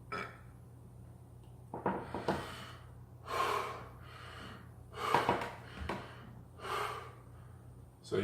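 Forceful power exhales come in a series of sharp, close breath bursts with sniffing intakes between, over a faint low hum and no talk.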